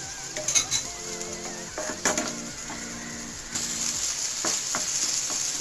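Chicken masala with Kashmiri chilli powder sautéing in a pan at home, a steady close sizzle with utensil stirs and clinks in a bright, busy rhythm, growing denser and louder in the second half.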